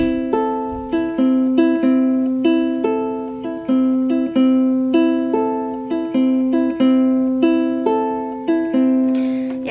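Ukulele playing a song with a mix of plucking and strumming, bright notes and repeating chords in a steady even rhythm, close and clear, with no voice.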